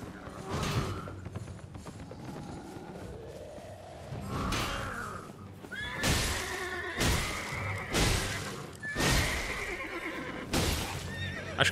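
A horse in Elden Ring whinnies loudly near the start, followed by clattering hooves, creaks and heavy thuds of in-game action, with repeated sharp impacts and bright ringing tones toward the end.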